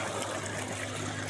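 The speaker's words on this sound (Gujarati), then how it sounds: "ચાલો ફાઇનલી હવે પાણી આવી ગયું છે, જોઈ લો." Water from a supply line starts running, giving a steady, close hiss of flowing liquid throughout with no pauses.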